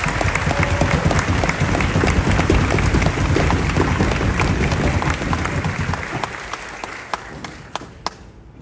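A crowd applauding soldiers at a US Army infantry graduation, loud dense clapping that thins into scattered claps before dying away.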